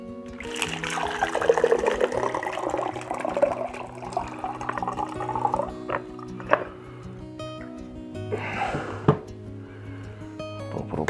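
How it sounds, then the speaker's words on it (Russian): Infused homemade moonshine is poured through a sieve into a container, giving a steady liquid splash and trickle for several seconds with a soft tonal hum underneath and a few brief clinks near the end. "наливаем через сито сюда"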